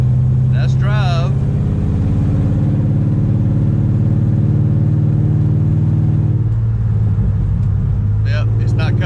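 A 1968 Dodge Charger with a Hemi engine and NAG1 transmission drives along, its loud engine droning steadily and dropping in pitch partway through as a gear changes, with brief speech over it.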